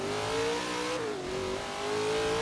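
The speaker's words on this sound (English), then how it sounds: "obviously we're driving a purpose-built drag car in the rain" A supercharged Chevy Nova drag car in Forza Horizon 3, driven in the rain, revs loudly and close. Its engine pitch climbs, dips briefly mid-way, then rises again.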